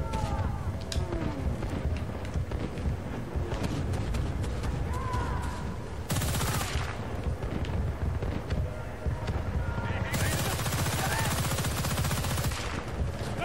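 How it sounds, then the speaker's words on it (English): Type 100 submachine gun in Battlefield: Bad Company 2, with rapid automatic bursts rattling across battle noise, louder sustained strings of fire appearing partway through and near the end. "I freaking love the Type 100 submachine gun."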